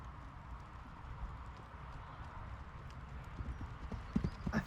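A single horse moving at an ordinary level canter, hoofbeats thudding in a steady three-beat rhythm close by, heard from the rider's position with a constant low rumble beneath and a few sharper, louder strikes toward the end.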